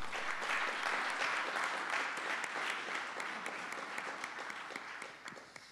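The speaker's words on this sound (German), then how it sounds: "Aber wenn Sie wollen, können Sie jetzt durchaus klatschen für Mike Rockenfeller," Audience applause greeting DTM racing drivers Mike Rockenfeller, Christian Vietoris and Marco Wittmann at the Essen Motor Show: sustained, dense clapping from a crowd that starts loud and gradually thins out with scattered claps.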